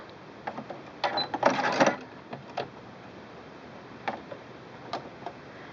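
A Singer Quantum Stylist 9960 sewing machine with a fancy trim foot stitches ribbon down, making a brief close run of fast mechanical ticking, then a few scattered soft clicks and taps.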